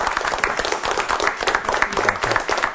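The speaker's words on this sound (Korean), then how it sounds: "큰 박수로 맞아주시기 바랍니다." Lively audience clapping greets an army academy professor arriving for a televised lecture, dense and close with distinct individual claps and a faint murmur of voices under it.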